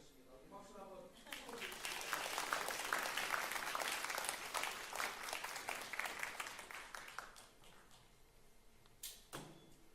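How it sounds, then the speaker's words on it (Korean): A church congregation in a Korean worship service gives a round of applause, several seconds of lively clapping swelling from quiet, then fading, followed by a single sharp knock. "박수 한번"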